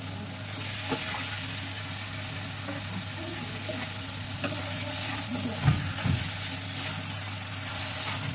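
Katla fish head dropped into hot oil with red chillies for a mung dal muri ghonto, sizzling steadily up close while a utensil stirs and scrapes the pan in occasional clunks, no talking.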